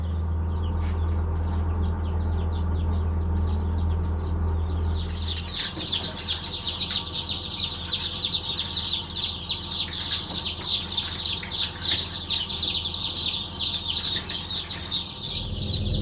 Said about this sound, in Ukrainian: прийшла вибирати курчаток. Уже пищать